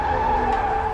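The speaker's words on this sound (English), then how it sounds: "That was a car tire." A car tire skidding on pavement, a sustained steady screech with a strong tonal squeal, loud and close, running unbroken for just under a second with no voices.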